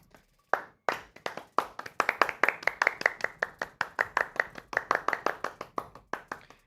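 A steady run of sharp hand claps, close and fairly loud, starting with a few spaced claps before settling into a fast, even rhythm, dropped in as a clapping sound effect during a live sports news stream.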